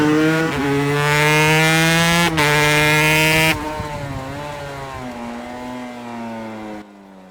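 A Langen two-stroke cafe racer motorcycle on a test ride, its loud, buzzy engine holding a high revving tone, dipping briefly, then dropping to a lower steady drone before cutting off near the end.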